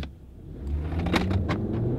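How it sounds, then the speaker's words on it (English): A manual-transmission car engine revs and the vehicle pulls off in first gear, the motor rising in pitch over a low rumble. "First we'll straighten the car, we're gonna take off."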